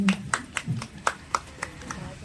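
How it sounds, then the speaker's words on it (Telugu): An audience claps along during a spoken devotional discourse on the Vedas, with sharp, fairly evenly spaced hand claps, about eight in two seconds, sounding at moderate distance over a low murmur. "చప్పట్లు కొట్టండి."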